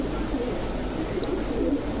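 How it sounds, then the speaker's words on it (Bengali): A Rampuri pigeon coos softly in low, murmuring notes against a steady background hum, close by. "টু সেম অরিজিনাল ব্রিডের একদম রামপুরে কবুতর।"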